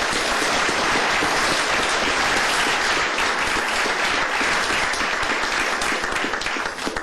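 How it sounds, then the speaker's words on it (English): A room at a Tarrant County commissioners court meeting breaks into a big round of applause, dense and sustained clapping from many people that fills the space without pause and tapers slightly at the end. "let's give them all a big round of applause"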